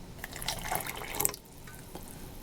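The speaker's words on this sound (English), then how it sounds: "I'm going to just throw a little hot water in there," Hot water poured into an MRE food pouch, a soft continuous trickle and splash, close and fairly quiet, with no one talking.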